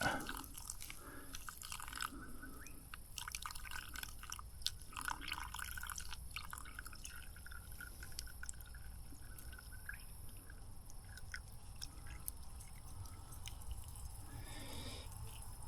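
Water drips and trickles through a filter outdoors, pattering continuously over a faint background hiss, with occasional louder splashy drops throughout.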